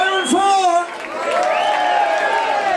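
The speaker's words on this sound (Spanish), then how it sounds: "Fuerte aplauso" A festival crowd whoops and cheers loudly for a band, voices rising and falling with scattered clapping underneath.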